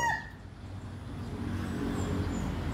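Native chickens out in a backyard after their morning feed, with a brief crow-like call at the start and then steady low scratching and yard noise, fairly quiet, no talking.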